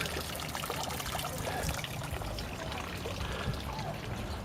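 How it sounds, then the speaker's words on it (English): Water from a fountain in a small New Zealand garden pours and trickles in a steady stream, a continuous close splashing wash that never lets up. "A water fountain."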